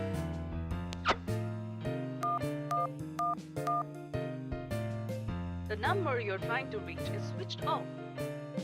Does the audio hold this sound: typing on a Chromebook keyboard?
no